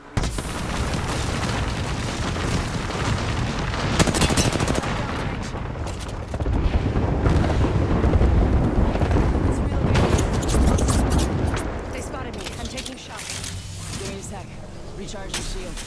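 Gunfire and explosions in a video game, a dense, loud barrage of rapid shots and heavy booms that swells through the middle and thins toward the end, with voices talking over it.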